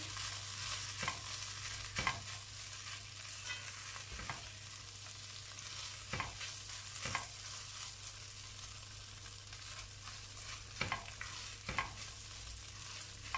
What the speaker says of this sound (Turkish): Ocağımı biraz açıyorum kavurma işleminde ve pirincimizi kavuruyoruz.